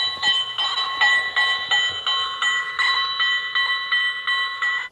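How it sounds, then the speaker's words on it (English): A 1925 Crescent locomotive-style telephone plays a loud, steady train sound, a bright ringing tone pulsing in a rapid regular rhythm throughout, with no talking. "Now, Leo, this is a choo-choo train telephone."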